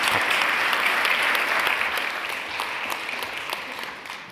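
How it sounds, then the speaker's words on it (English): Loud, sustained applause from a large crowd, dense steady clapping that slowly tapers off. "Give him a big applause."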